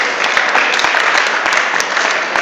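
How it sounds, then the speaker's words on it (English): A burst of close, loud clapping from an audience at a Krishna Fest lecture, dense and continuous with a few sharper claps standing out. "So try not to clap."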